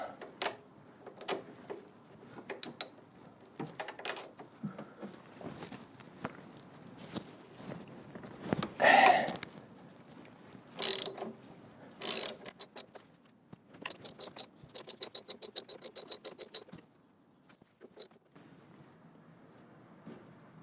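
A ratchet and wrench working an 18 mm bolt on the engine mount of a 1.6 HDi Peugeot Partner: quiet, irregular clicking and metallic clanks, with bursts of rapid ratchet ticks and a few louder knocks, close but fairly faint.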